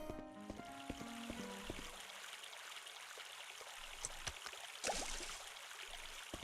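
Holy water is refilled in the Clock Tower 3 video game: a soft trickling, pouring water sound follows a few fading piano notes, with small splashes and a brief brighter burst near the end.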